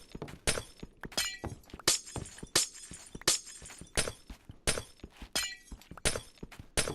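Glass blocks being broken in the Minecraft video game, a rapid repeating series of sharp crunchy shatters at a steady rhythm, loud and close with no talk.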